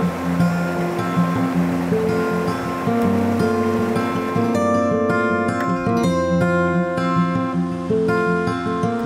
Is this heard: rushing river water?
yes